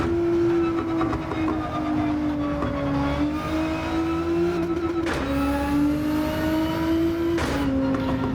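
Engine of a car being revved hard in Gran Turismo during a fast lap, a steady loud tonal drone rising in pitch with several sharp shift breaks, continuous throughout with no talk.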